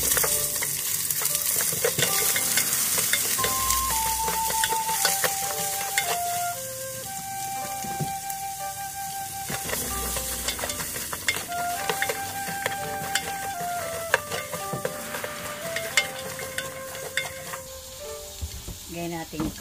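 Onions sizzle steadily in a hot pan for Filipino sautéed eggplant, a continuous close hiss that runs the whole time beneath melodic background music.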